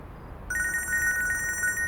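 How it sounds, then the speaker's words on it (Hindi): A phone starts ringing halfway through, a bright, pulsing electronic trill that keeps going until the end. "फोन बज रहा है तुम्हारा"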